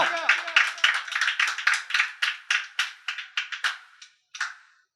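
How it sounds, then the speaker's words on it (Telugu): A church congregation at a Telugu Christian service clapping together in a fast, rhythmic run of sharp claps that thins out, pauses briefly, then ends with one last clap. "చప్పట్లకు దేవుని మహిమపరచండి గట్టిగా."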